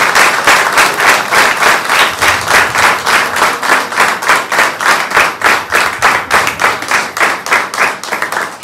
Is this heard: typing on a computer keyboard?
no